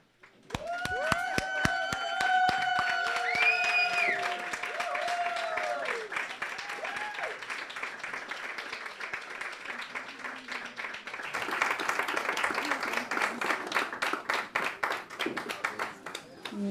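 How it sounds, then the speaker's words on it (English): Standing audience at a bookstore book debut applauding as the author comes up to speak: a warm, steady wash of clapping that carries on throughout and swells near the end, with scattered voices and cheers rising over it early on. "stand up and give a rousing round of applause"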